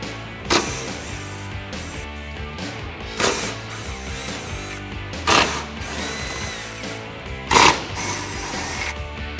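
A 13mm ratchet or power driver removing the stock tire carrier bolts from a Jeep Wrangler JK tailgate, four loud bursts of whirring and rattling spaced a few seconds apart over a steady mechanical background.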